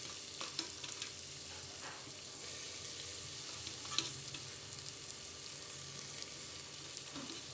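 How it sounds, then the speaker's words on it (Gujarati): Chopped onion and tomato frying in hot butter with a pinch of hing for a corn dish, giving a faint, even sizzle with a few soft clicks and pops, no voices. "હવે હું નાખીશ એમાં ડુંગળી અને ટમેટાં"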